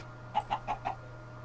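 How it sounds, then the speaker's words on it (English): Chicken in SevTech Ages, a modded Minecraft pack: four short, evenly spaced clucks, close and clear over a low steady hum, with no talk. "Hi, chicken."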